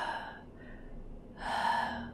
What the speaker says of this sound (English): That is breathing that you hear. And that breathing is a dark wraith.